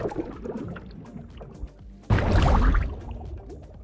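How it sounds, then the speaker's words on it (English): A Nautilus jets through water in Minecraft: a sudden loud whooshing, bubbling rush bursts in after quieter watery murmurs and sustains for about a second before fading. "the sounds for Nautilus jetting and recovering have been updated"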